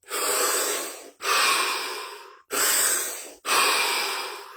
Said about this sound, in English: We're going to start with 3 deep, deep breaths